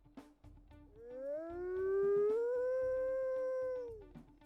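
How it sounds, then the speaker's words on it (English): Deep in-game wolf howl from the video game WolfQuest, one long rising then level tone held for about three seconds before falling off, loud and clear over a soft steady game background. "A very, very deep howl, which suits her strong personality."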